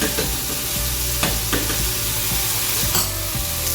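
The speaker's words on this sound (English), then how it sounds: "We're just gonna stir that up and let it get a little bubbly." Fresh ginger and minced garlic sizzle steadily in a skillet, up close, with a few sharp scrapes and clinks of a utensil as they are stirred, and no one speaking.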